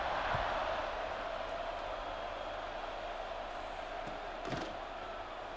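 A stadium crowd in an American football video game keeps up a steady, dense buzz throughout, a constant wash of many voices with no clear breaks.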